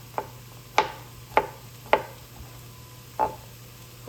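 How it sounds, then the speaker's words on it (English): A kitchen knife chops garlic on a cutting board in short, sharp knocks: a handful of separate strikes, close and distinct, over a quiet background. "So I'm chopping up this garlic a little bit here."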